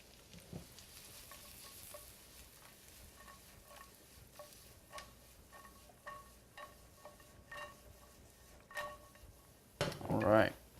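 Sliced mushrooms sizzle quietly in a pan for a creamy pasta sauce, with soft frying hiss under repeated utensil scrapes and clinks against the pan, and a louder clatter near the end.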